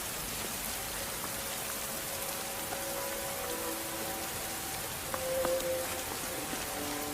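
Rain falls steadily in a dense, even hiss, with no talk and a faint tonal hum underneath throughout.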